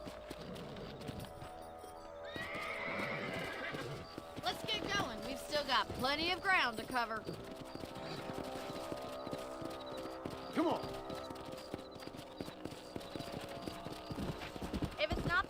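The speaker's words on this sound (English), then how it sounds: "Let's get back on the horses and see what else is going on." Horses trot with steady clip-clop hoofbeats and neigh several times in the video game Red Dead Redemption, while a voice speaks over the riding and a distant whinny rises midway.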